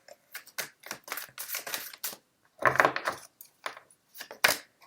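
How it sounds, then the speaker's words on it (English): Tarot cards are shuffled in quick, irregular bursts of crisp riffling and slapping, close and moderately loud, with no voice heard. "So I am going to continue shuffling."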